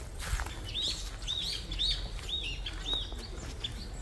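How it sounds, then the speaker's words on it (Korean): Small birds chirp in a forest in quick repeated high notes, a steady series of bright tweets over soft outdoor background noise. "아유 새소리 인마 아 그러니까 아 새소리가"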